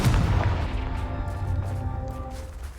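A Confringo spell blast in Hogwarts Legacy, a deep booming burst at the start that rolls off into a rumbling, decaying tail.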